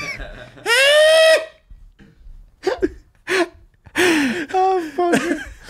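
A man vocally imitates loud snoring, giving several drawn-out, throaty rasping snore sounds close up, with laughter and casual talk from others between them.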